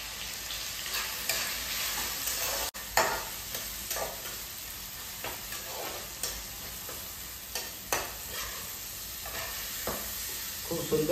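Food frying in a pan with salt being added, a steady sizzle broken by repeated scraping stirs of the spatula at uneven intervals, close and fairly quiet, with no talking.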